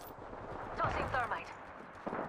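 Gunfire in Apex Legends rings out in a burst of several shots near the middle, rattling over ongoing game noise with a voice talking underneath.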